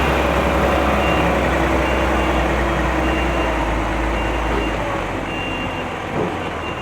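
A GWM 410 Euro 5 truck engine runs with a steady, dense rumble throughout, loud and continuous, with faint background noise.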